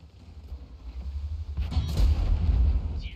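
A tank cannon fires in the World of Tanks video game, a deep booming shot that hits partway through and rumbles on after a low mechanical hum.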